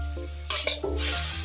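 Food being stirred in a frying pan with a utensil, several scraping clinks against the pan over a steady low hum, with faint sizzling, close and moderately loud.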